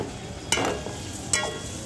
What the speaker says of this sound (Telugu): 3 పెద్ద సైజు ఉల్లిపాయల్ని ఇలా మిక్సీ పట్టి ఫ్రై చేసుకుంటున్నానండి.